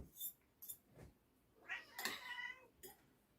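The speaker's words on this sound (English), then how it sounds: "And that's all I've been hearing from the kitty cats," Several cat meows, some short and one drawn-out and wavering, fairly close, with small thumps and rustles between them.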